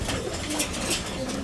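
Racing pigeons cooing in a loft, soft repeated coos buried under a dense wash of wind and broadband noise.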